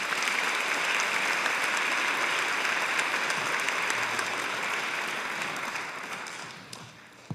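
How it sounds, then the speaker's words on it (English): Middle school spring band concert audience applauds in a long, full burst of clapping that gradually fades out over several seconds, with a few last claps at the end. "Let's give them a round of applause for that."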